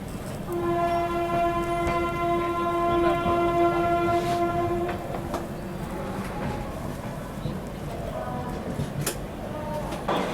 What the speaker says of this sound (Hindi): मुंबई राजधानी के साथ क्रॉसिंग अपनी होने वाली है तो वो आपको दिखाता हूँ